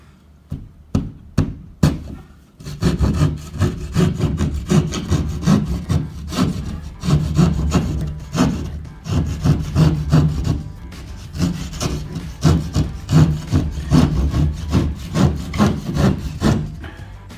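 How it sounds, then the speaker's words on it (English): Repeated blade passes through drywall in a basement, a steady rasping, sawing grind with short bursts at the start, then continuous close cutting strokes with no talking. "never cut drywall with a circular saw"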